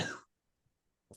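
A single open-mouthed cough at the start, close and fairly loud, followed by near silence and a second short cough at the end.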